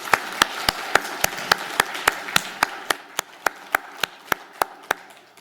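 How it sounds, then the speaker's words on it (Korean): A church congregation at a Sunday service claps together in a slow, even rhythm of about eighteen sharp, unified beats, each crisp and distinct over a faint room background. "우리 하나님 앞에 영광과 찬양의 박수를 다시 한번 올려드립니다"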